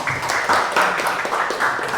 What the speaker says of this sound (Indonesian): Tepuk tangan dulu buat kelompok ini.